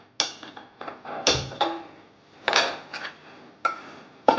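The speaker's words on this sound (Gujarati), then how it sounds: "અને કઢાઈ મૂકીશું." A metal kadai set down on a gas stove, giving a run of sharp clanks and scrapes of metal on metal, close and fairly loud, with brief pauses between knocks.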